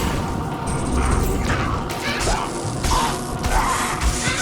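Weapon blows landing on a monster in Diablo 2 Resurrected, heard as repeated mechanical whacks and crunchy impacts over dense game ambience and music, loud and continuous.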